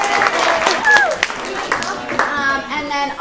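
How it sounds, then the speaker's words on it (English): At a school CreatAthon event in 2018, an audience claps for parents and helpers. Lively, close hand-clapping mixes with children's excited voices and cheering, and talk runs throughout. "So give them a round of applause"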